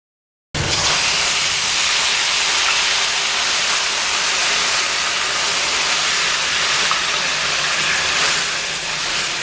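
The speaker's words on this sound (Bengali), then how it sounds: "এবার এর মধ্যে গরম জল আমি দিয়ে দিচ্ছি।" Hot water is poured into a pan of fried moong dal and bursts into a loud, steady sizzling hiss that begins abruptly and holds for several seconds.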